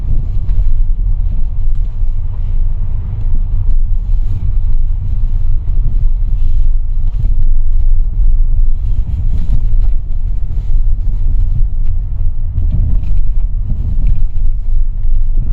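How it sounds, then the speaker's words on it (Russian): Steady low rumble of a Geely Coolray with 37,000 km driving over a rough road, with knocking and rattling from the worn left shock absorber throughout, no voices. "как на плохих дорогах гремит подвеска, а именно левый амортизатор"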